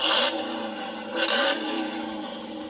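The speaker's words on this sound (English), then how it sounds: "There's a car revving" A Transformers Cyberworld Scorp toy car plays an electronic revving effect, two bright surging bursts rising and falling over a steady whirring tone, close and fairly loud.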